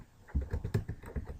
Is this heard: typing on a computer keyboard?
yes